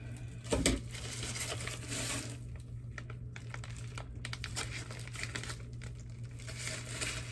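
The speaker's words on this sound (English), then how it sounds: "I gotta go in with the Color Q shampoo, so I'm gonna just cut that open." Scissors cut open a Color Q shampoo packet: a brief crinkle and snip of plastic near the start, then soft rustling over a steady low hum in a quiet room.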